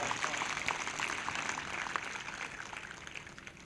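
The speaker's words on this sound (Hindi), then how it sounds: "फिर से एक जोरदार ताली बजाएं प्रभु की महिमा के लिए।" A church congregation at a Christian worship service claps together in sustained, dense applause, steady and fairly loud throughout with no pause.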